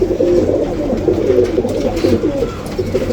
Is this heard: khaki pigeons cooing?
yes